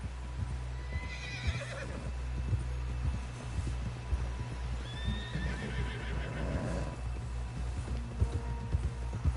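Horse in the Red Dead Redemption 2 video game, with rhythmic hoof clip-clops on the ground under a steady low hum, punctuated by a couple of snorting neighs and whinnies, close and fairly quiet overall.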